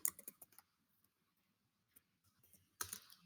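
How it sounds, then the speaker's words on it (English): Soft clicking keystrokes on a computer keyboard, a quick run of taps at the start, a few isolated clicks, then another short burst, faint and close with no voices. "we're going to type in geography"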